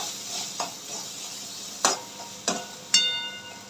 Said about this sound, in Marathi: आता व्यवस्थित मिक्स करून घेऊया